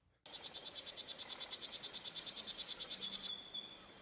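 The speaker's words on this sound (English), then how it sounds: "This is a poison dart frog." A poison dart frog calls in a rapid, even trill of about twenty-five buzzy chirps lasting three seconds, close and clear against a quiet backdrop of faint insect hum.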